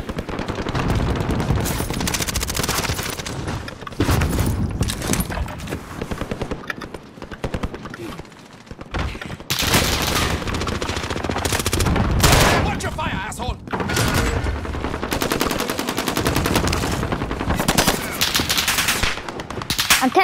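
Dense gunfire from the video game Warzone crackles almost continuously in loud automatic bursts and scattered single shots, with brief lulls between them, close and harsh.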